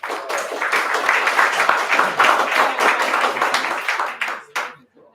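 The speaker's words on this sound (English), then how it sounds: "Please give applause to Lilis." An audience at an incubator program's graduation party claps, a dense, steady burst of applause that fades out with a few last claps.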